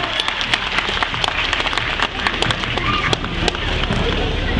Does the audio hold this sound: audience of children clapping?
yes